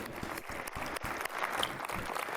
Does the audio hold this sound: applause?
yes